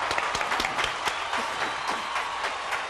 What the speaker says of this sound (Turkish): Alkışlıyoruz, yani alkışlıyoruz.